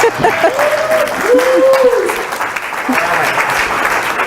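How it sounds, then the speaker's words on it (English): Conference breakout audience applauds for a presenter, a sustained wash of clapping from a room of people, with a voice speaking over it near the start. "It would be customary to applaud for Karen."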